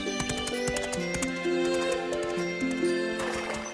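A horse whinnies and neighs in long, tonal calls while hooves clip-clop steadily through a walk, trot and canter, loud and close with no voices.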